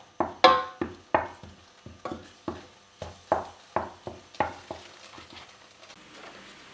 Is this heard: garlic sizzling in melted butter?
yes